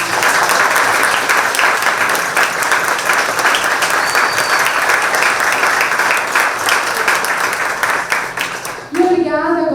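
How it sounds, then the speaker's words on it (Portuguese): Loud, dense applause from an audience fills the room at a steady level for about nine seconds, then cuts off abruptly as a voice begins speaking at the very end. "dou uma salva de palmas para eles"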